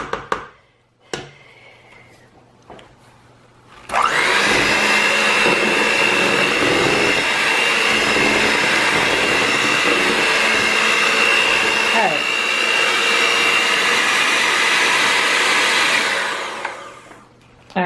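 Electric hand mixer beating strawberries and cream cake batter, a loud continuous whirring drone that starts after a few soft knocks and runs steadily for about thirteen seconds before cutting off.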